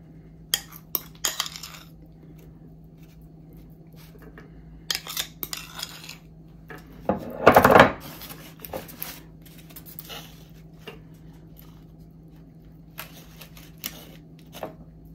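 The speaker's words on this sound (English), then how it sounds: "I'm just going to spoon this back into my potato" Seafood filling is spooned back into a baked potato in a series of scattered light clinks and taps of the spoon, with one louder burst of scraping midway and long quiet gaps.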